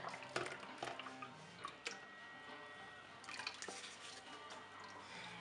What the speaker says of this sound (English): So I'm gonna add the lye water.